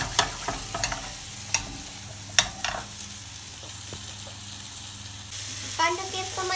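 Food frying in a pan, being turned now and then, makes a steady, fairly soft sizzle, with a few sharp clicks and scrapes from the utensil. No one speaks over it.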